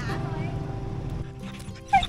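A couple of dogs at a rural Vietnamese family home give short yips and whimpering barks, mostly masked by continuous background noise, with one sharper bark near the end.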